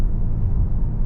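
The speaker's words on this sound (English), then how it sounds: "those turbos spool up and move this car down the road big time" A 3.3 liter twin turbo V6 in a 2020 Kia K900 luxury sedan pulls hard under acceleration, a steady loud low rumble with a faint higher whine above it, close and with no talk.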